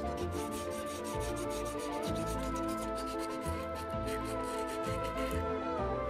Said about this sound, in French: il faut utiliser du papier de verre pour finalement lisser toute la surface